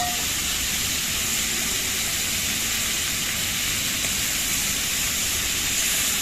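Potatoes poured into a pan of frying chicken, a steady loud sizzling hiss of hot oil that holds constant throughout without pause.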